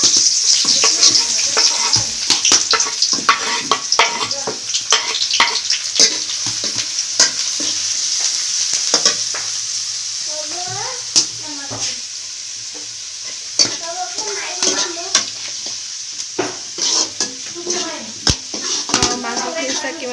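Onion and garlic fry in hot oil for an Assamese duck curry, a steady close sizzle broken by frequent spatula scrapes and clicks from stirring throughout, with a voice murmuring at times.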